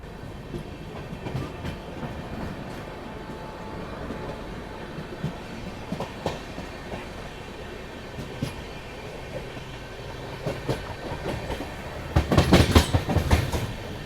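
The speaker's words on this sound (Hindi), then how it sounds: "ये शेषाद्री एक्सप्रेस है, जो कि काकीनाडा टाउन से बैंगलोर के बीच चलती है।" The Seshadri Express, a Kakinada Town–Bangalore passenger train, passes steadily with rhythmic clickety-clack of wheels over rail joints, growing louder and busier near the end.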